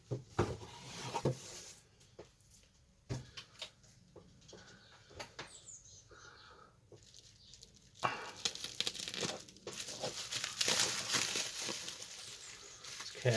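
Crinkling and tearing of packaging as a parcel holding three Airfix model kits is carefully unwrapped, with scattered crumpling at first and then denser, louder rustling and ripping toward the end.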